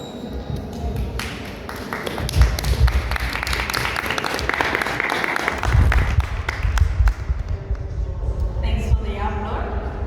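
Lecture audience applauds at the end of a talk, scattered sharp claps building into a moderate round over the room, with voices and handling noises mixed in.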